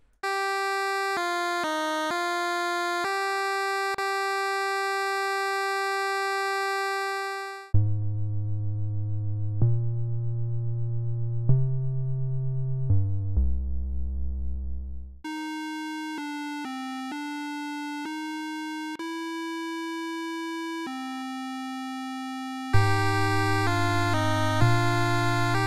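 Game Boy–style chiptune music: bright square-wave melody lines over pulsing bass, shifting from a slower minor section into a faster, more rhythmic upbeat part with clear steady beats, loud and without talk.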